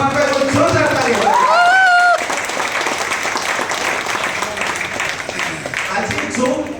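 An indoor business gathering bursts into applause while a voice carries on over it, the clapping spreading into a dense, sustained patter that lasts several seconds.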